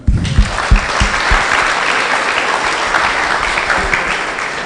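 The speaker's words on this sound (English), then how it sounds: "let's give him a clap" Audience applause at an ISKCON Phoenix temple gathering for the Nrsimha Chaturdasi festival: a few sharp, close claps open into dense, steady clapping that fills the room for several seconds at an even level.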